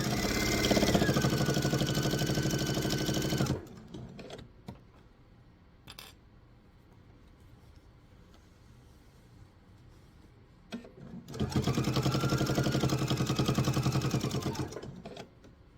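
A sewing machine stitches binding onto a fabric laptop sleeve in two loud, steady mechanical runs of a few seconds each, separated by a quieter stretch with small handling noises.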